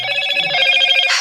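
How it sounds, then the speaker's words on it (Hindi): A mobile phone ringtone for an incoming call cuts into a maths class lesson, playing a bright repeating electronic melody for just over a second before stopping abruptly. "चलिए सॉरी फोन आ गया था।"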